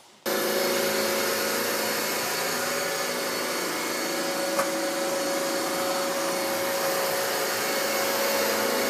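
An iRobot Roomba robot vacuum switches on abruptly and runs with a steady, loud whirring drone and a faint high whine, continuous and unchanging.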